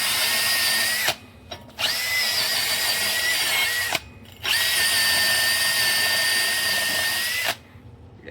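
Power drill spinning a wire brush to scour rust off a brake part during a caliper swap on an Escalade, running in three loud sustained high-speed bursts separated by brief pauses.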